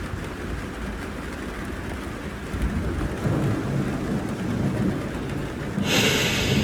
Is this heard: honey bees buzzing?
no